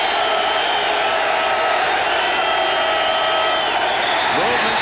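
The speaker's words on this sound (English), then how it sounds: "Now the crowd will try to bolster the Eagle defense." A football stadium crowd roars for the Eagles defense against the Los Angeles Raiders, a dense, continuous wall of cheering and noise from a large audience.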